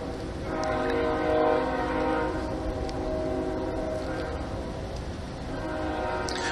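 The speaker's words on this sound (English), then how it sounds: "Horn going nuts on the train." A train horn blares continuously and loudly, a sustained multi-tone blast held for several seconds with the rumble of the passing train beneath it.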